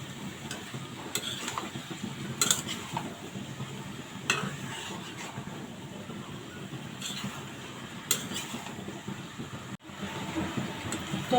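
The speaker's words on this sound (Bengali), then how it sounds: "এখন ভালোভাবে নেড়ে চেড়ে মিশিয়ে নিব।" Fish curry with vegetable stems and potatoes being stirred in a pan, a steady soft scraping and bubbling texture with scattered clicks of the utensil against the pan, moderately faint throughout.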